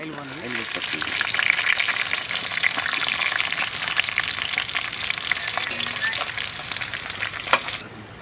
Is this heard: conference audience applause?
no